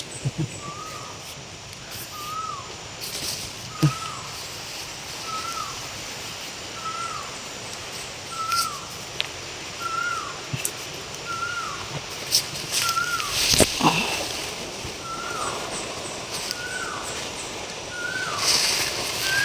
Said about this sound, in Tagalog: Pag-ingay ng ibon.